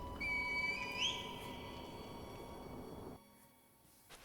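A rising whistle-like tone, the reed whistle calling the divine air in the video game Sekiro, sounds over a steady, loud game ambience, which then cuts out to near silence.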